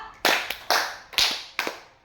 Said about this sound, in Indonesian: Tepuk 4, dua-dua ya Bapak Ibu.